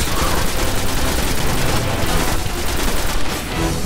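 Rockets explode in the Destiny video game in a dense, continuous barrage of booms and gunfire-like blasts, loud and close throughout with no break.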